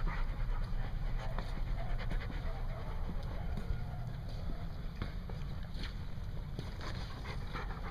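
Dogs pant heavily outdoors, the breathing steady and close over wind rumble and a low water-craft drone, with a voice speaking briefly.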